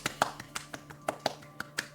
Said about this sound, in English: Now you will clap.